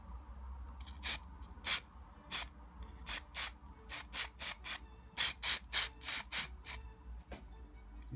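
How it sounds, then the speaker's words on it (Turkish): Black spray paint is sprayed from an aerosol can in short, sharp hissing bursts, about a dozen close, loud spurts in a fairly regular rhythm with brief pauses between them. "Şimdi elimde siyah sprey boya var. Bununla boyayacağım."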